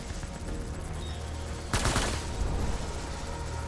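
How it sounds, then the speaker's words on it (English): Enemy gunfire in the video game Death Stranding Director's Cut, a sudden loud burst of shots cutting through steady background game noise and music midway through. "Taking fire!"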